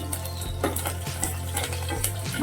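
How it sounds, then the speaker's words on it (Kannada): Mustard seeds and green chillies sputter in hot oil for a village-style bean and split chickpea dish, a steady close sizzle with scattered pops and the clink of a utensil against the pan throughout. "ಎಣ್ಣೆ ಹಾಕೋತಾ ಇದ್ದೀನಿ ಸಾಸಿವೆ ಮೆಣಸಿನ್ಕಾಯಿ"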